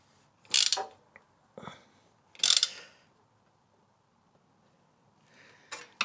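A ratchet wrench tightening an exhaust bolt on a CFMoto 450MT motorcycle, its crushing washer taking up load: three short bursts of close, sharp ratcheting clicks separated by quiet pauses, with no talk.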